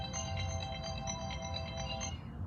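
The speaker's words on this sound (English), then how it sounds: "that's my phone." A mobile phone ringtone plays a short, faint melodic tune for about two seconds, then stops, over steady background noise outdoors.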